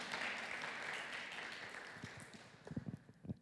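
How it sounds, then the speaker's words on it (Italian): A brief, faint round of audience clapping for Emanuele fades out after a few seconds, followed by a few soft taps. "Un veloce applauso per Emanuele."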